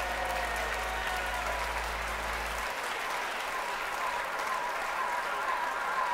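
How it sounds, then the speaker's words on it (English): Stadium crowd at a US Open men's singles tennis final applauds in a steady, dense wash of clapping that continues for the full stretch, with a low hum fading out partway through. "A round of applause for love."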